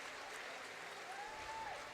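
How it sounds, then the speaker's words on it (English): A crowd at the 2015 U.S. Army All-American Bowl football game gives a standing ovation, a steady wash of distant stadium applause with broadcast commentary underneath. "This crowd, standing ovation."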